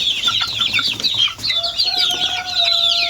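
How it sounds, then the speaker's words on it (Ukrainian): Constant high-pitched peeping of many chicks of several breeds, including Amrocks, loud and close, with a few longer steady cheeps rising above the busy chorus. "Цікаві, курчатка цікаві"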